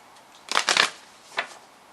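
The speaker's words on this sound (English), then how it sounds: "So now I'm going to pull the Angel and Ancestor card for you." An Angel and Ancestor oracle card deck being shuffled in a few quick, close papery riffles, one clustered burst and then a single later flick, alone against a quiet background hiss.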